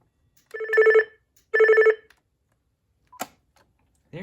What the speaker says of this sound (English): Oh nice, it has a different ringtone.